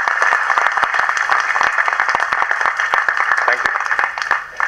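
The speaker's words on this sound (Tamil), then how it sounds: "இந்த நேரத்தில் அப்பாவுக்கு ஒரு கரகோஷம் கொடுங்க" Audience applause at a Tamil movie audio release event, a dense steady wash of clapping filling the hall with a voice heard over it.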